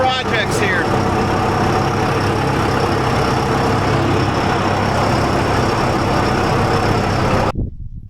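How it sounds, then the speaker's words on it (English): Farm tractor engine idling and rumbling as it pulls into a shed after silage feeding, loud and close with a steady low drone, then cut off abruptly near the end. "I'm going to go ahead and put this tractor away"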